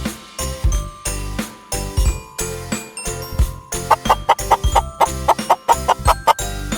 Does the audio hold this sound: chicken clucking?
yes